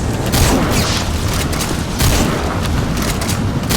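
Dense, continuous gunfire and booming blasts from the video game Metal Gear Solid V: The Phantom Pain, loud and sustained throughout with no pauses.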